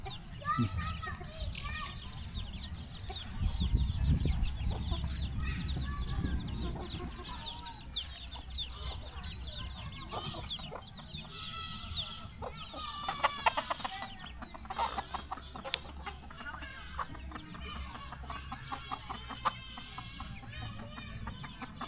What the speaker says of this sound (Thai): ไก่เขาเจ้านี่เป็นไก่แบบไก่ป่านะสายพันธุ์ไก่ป่า